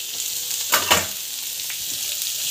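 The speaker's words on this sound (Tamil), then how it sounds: "ஆயில் நல்லா காஞ்சி பிறகு வெங்காயம் வந்து போட்டுக்கலாம்." Onions sauté in hot oil for a dhaba-style mushroom masala, with a steady bright sizzle close by and two brief louder bursts early on.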